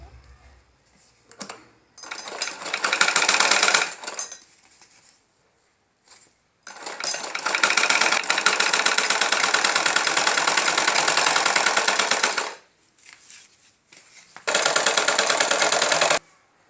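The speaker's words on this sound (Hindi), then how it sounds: "हम इसको सिलाई कर लेंगे" A sewing machine stitches salwar fabric in three separate runs of fast, steady mechanical whirring, each ending in brief quiet, with a few small clicks in between.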